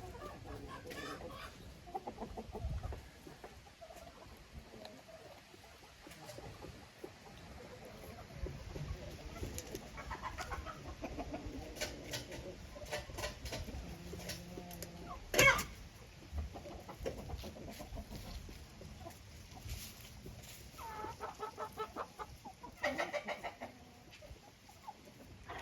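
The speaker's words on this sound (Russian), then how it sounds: "Это петушок Фавероль." A Faverolles rooster and hens cluck and murmur in a backyard chicken coop, a steady, fairly faint stream of clucks and occasional louder calls from nearby birds.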